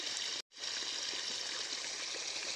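Water gushes steadily from a motor pump outlet, a loud, continuous broadband rush with a brief cutoff near the start before the flow resumes.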